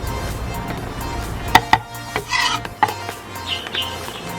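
Chopped chili peppers, partly deseeded, are dropped into a pan, giving a few sharp close clinks and light clattering scrapes against the metal, with a soft rustle between.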